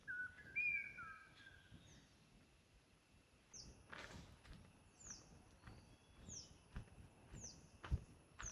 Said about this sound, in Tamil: குருவி சத்தத்தை பாருங்க.